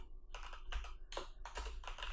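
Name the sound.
typing on a computer keyboard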